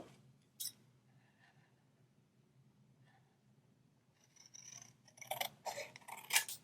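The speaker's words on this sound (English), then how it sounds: "Just cut off a little bit of this." Snips of scissors trimming a small Christmas embellishment while making a card, a single clean cut early on, then a cluster of crisp, close paper-handling clicks and rustles toward the end.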